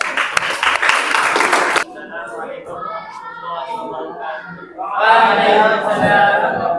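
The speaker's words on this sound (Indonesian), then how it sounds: "Terima kasih, tepuk tangan." An audience at a classroom group presentation gives a short, loud burst of clapping lasting about two seconds, then stops abruptly as people start talking and continue under quieter, clearer speech.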